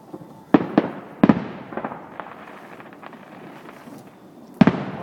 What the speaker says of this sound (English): I like how the world just stops fireworks.